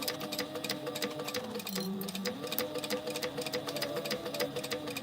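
A domestic sewing machine stitches in a fast, steady mechanical patter with a brief change in pitch partway through, running close and alone with no voices.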